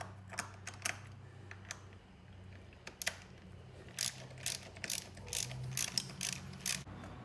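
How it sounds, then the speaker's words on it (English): A bolt is worked out of a Banshee clutch kicker with a ratchet, a series of quiet close clicks in uneven bursts over a faint background hum. "We're gonna take the bolt all the way out, or the kicker won't come out."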